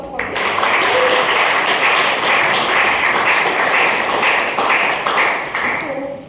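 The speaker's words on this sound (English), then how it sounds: "big round of applause for them." An audience at a Toastmasters club meeting breaks into a dense round of applause, many hands clapping steadily for about six seconds before tapering off.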